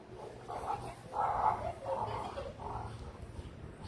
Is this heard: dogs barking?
yes